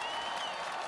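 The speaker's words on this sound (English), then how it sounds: "Applause?" Applause sound effect from an English-dubbed audio drama reading event: a short, steady wash of crowd clapping, dense and even throughout with no pauses.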